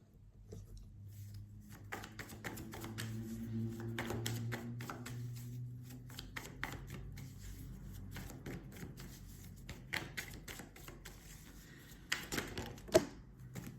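Tarot cards being shuffled by hand during a weekly reading, a steady run of soft riffling and flicking that holds for the whole stretch, with a few sharper taps and card slaps near the end.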